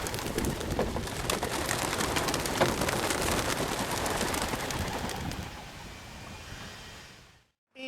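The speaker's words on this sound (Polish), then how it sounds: "następuje start gołębi młodych" A loud, dense rush of many young pigeons' wings flapping at once on a training release, a broad fluttering clatter that fades out toward the end before falling silent.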